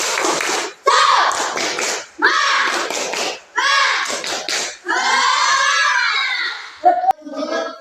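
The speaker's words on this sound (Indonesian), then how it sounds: "Yo, tepuk semangat." A primary school class of fifth-graders chants in loud, rhythmic group bursts while clapping along in a spirited cheer, with sharp claps near the end.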